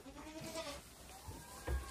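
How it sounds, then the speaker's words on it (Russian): Goats bleat in a farm pen, several calls spread over a couple of seconds, close and fairly loud, with a bit of barn noise between them. "Во, козы, молодцы"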